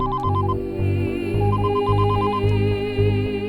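A phone rings with a steady electronic ringtone, a repeating beeping pattern over a low hum, loud and close.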